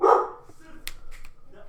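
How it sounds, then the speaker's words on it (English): One fairly loud bark from a pet dog opens the moment, then fades into softer background noise with a few faint clicks. "That's my dog barking."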